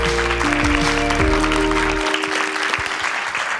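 Studio audience applauds a guest on a French talk show, a dense burst of clapping mixed with a sustained musical chord that cuts off after about two seconds while the clapping continues.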